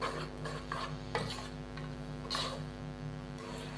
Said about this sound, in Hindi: यहाँ पे हम इसको अच्छे से मिक्स करेंगे और मसाले को हम 3 से 4 मिनट के लिए अच्छी तरह भून लेंगे।